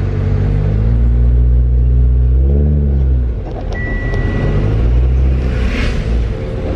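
A car pulls away from a green traffic light on a city street, its engine rising through the gears in a loud, close revving rumble that dips briefly midway before climbing again, with no talk.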